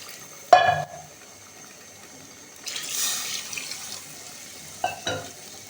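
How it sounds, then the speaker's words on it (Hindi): Plain water goes into a pot of Pakistani meat and potato curry with a short splashing pour and a sizzle. A longer soft rush of liquid follows, then another brief splash near the end, with no talk. "साथ ही हम इसमें डालेंगे 1 गिलास सादा पानी।"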